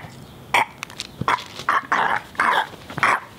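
A dog barks, growls and whimpers in a run of short, loud, close bursts with brief gaps between them, and no talking over the sounds.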